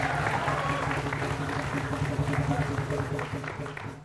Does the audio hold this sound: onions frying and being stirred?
no